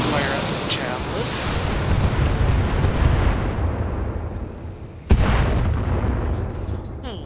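Weapon fire and explosions striking a Javelin mech in a BattleTech-style video game: a continuous dense barrage of booms and blasts, with a sharp fresh impact partway through and a voice talking over the din.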